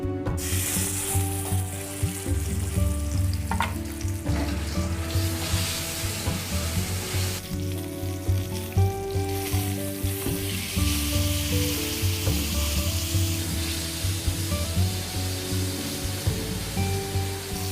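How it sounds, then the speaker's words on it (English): Pork roast searing in hot oil in a skillet, a steady, dense sizzle and crackle that holds loud and close throughout with no talk. "get our pork into the pan, and we're going to sear it on 4 sides until it's nicely golden"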